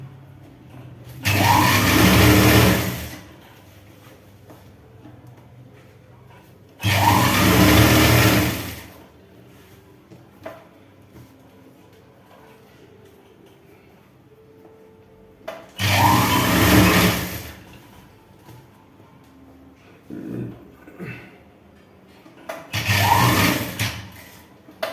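A sewing machine stitches a 34-inch chudi in four separate loud bursts, each lasting a couple of seconds, with quiet pauses between runs. The machine is close by, and a fainter shorter whir comes near the end.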